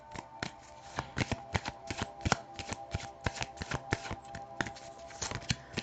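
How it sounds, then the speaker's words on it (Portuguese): Oracle cards are shuffled close by in a quick, steady series of crisp riffling snaps and slaps, one after another with no talking. "Oráculo, por gentileza, 3 cartas."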